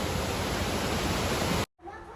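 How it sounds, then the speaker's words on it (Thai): High waterfall roaring as a steady, dense wash of noise that cuts off abruptly, followed by quieter ambience with faint voices. "ทุกคนน้ำตกไอ้ตัวที่ลงสูงอ่ะ มันก็อยู่ตรงนู้น"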